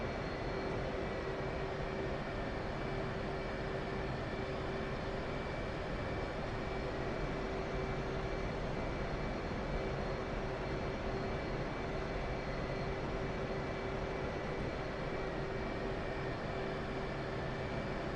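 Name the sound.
F/A-18C Hornet jet taxiing in DCS video game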